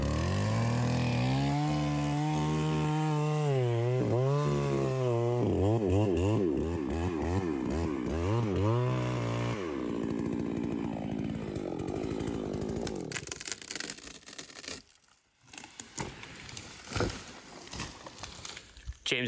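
A $300 STIHL 660 knockoff chainsaw felling trees during logging, its engine revving up and down in loud surging bursts for about ten seconds, then dropping to a rougher, choppier cut with woody crackle and scattered voices nearby.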